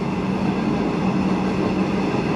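A V/Line passenger train runs at Geelong with a steady, dense rumble of wheels and engine that holds level throughout, close and loud with no talk.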